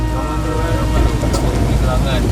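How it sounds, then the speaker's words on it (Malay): Heavy rain drums steadily on a car during a long road trip to Terengganu, a dense continuous hiss over a low engine rumble, with voices faintly present. "Hujan lah."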